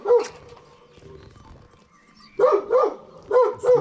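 A dog barks sharply several times, a single bark followed by a quick run of four close barks, loud and near.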